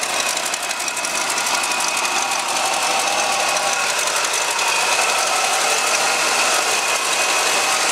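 A 1974 Cadillac Eldorado convertible's 500 cubic inch V8 runs steadily at idle, a loud, close, continuous mechanical hum with fine ticking throughout and no talking.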